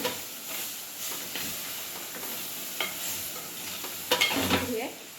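Paneer cubes are stirred with spices in a hot pan for pulao, with a continuous sizzle and hiss, scattered utensil scrapes and a louder clatter of stirring near the end.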